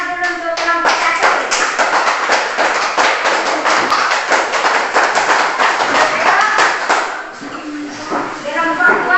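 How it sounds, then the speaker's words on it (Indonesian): A classroom group applauds together, dense rapid clapping from many hands that is close and loud, dipping briefly before picking up again, with a voice speaking through it. "Kalau tidak ada kita kasih aplaus dulu untuk kelompok 1."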